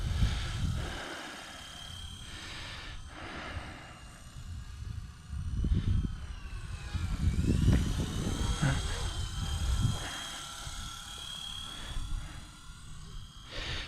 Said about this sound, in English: But this helicopter isn't a bad little heli to fly.